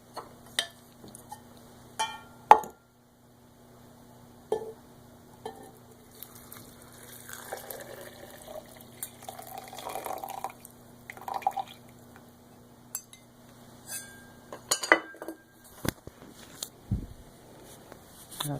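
Freshly brewed cedar tea poured from a small pocket stove pot gives scattered drips and a light liquid trickle, with a few soft clinks of metal cookware, fairly quiet and close, with no talking.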